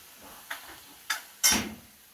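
Green chilli paste being stirred in a pan while cooking Gujarati kadhi, heard as three short scraping clanks of a spoon against the pan, spaced about half a second apart, the last one loudest, over a faint steady background.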